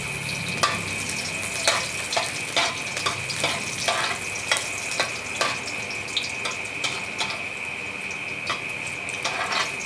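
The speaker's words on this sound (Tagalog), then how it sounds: "Uunahin muna natin paggisa ang bawang." Garlic sautéing in a pan for ginataang tilapia, a steady close sizzle with repeated sharp clinks and scrapes of a utensil stirring at irregular intervals.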